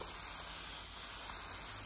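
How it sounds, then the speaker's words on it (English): A spray bottle misting an isopod enclosure with leaf litter gives a faint, steady hiss of fine spray. It holds for the whole short moment, close by, with no talk. "Did want to spray this down a bit."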